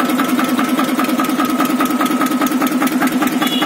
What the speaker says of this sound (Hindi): ये देखिए और ट्रैक्टर स्टार्ट हो गया है। ये देखिए बहुत ही प्यारी आवाज निकाली है ट्रैक्टर ने